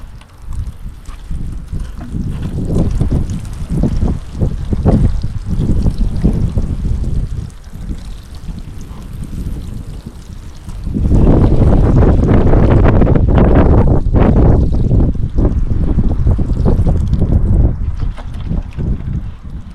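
Water pours and splashes steadily onto potted plants in a small garden in March, a continuous rushing, trickling wash that grows louder and fuller partway through, close to the microphone with some wind buffeting.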